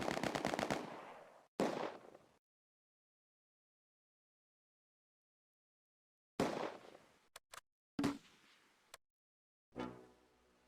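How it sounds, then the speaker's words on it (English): Gunfire from the World War II video game Close Combat A Bridge Too Far, set at Arnhem: a rapid machine-gun burst and a second short burst, a long silence, then several more bursts and sharp single shots, loud and close. "Lieutenant Hoffman's team prepares to open fire"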